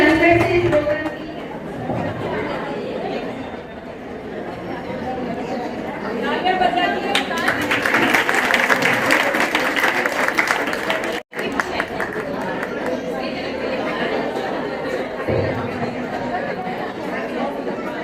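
A crowd at a women's empowerment award ceremony claps in a broad burst of applause that swells in the middle, mixed with chatter and voices throughout.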